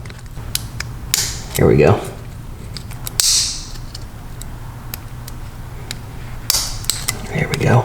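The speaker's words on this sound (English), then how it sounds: "I'm going to use this little trim tool." A small trim tool pries at custom color-matched buttons in a BMW F80 M3, giving sharp little clicks and plastic snaps scattered through the clip, with a few brief scraping movements and a short spoken remark.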